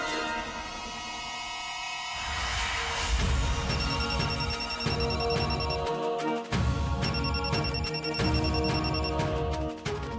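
A phone rings with a repeating electronic ringtone melody, fairly loud and continuous, over a faint indoor background.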